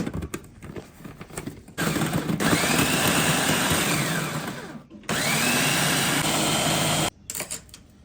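Electric chopper mincing onion: two loud, close motor bursts, one of about three seconds that winds down and a shorter two-second run, with quiet handling noises before and after.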